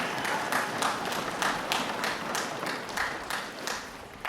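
Audience applause at a student last-day concert: steady, dense clapping from a crowd, sustained and fairly even throughout.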